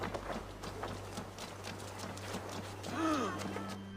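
Horse hooves clip-clop in the video game Assassin's Creed Valhalla, a steady soft trot under a low constant hum, with a brief whinny-like call near the end.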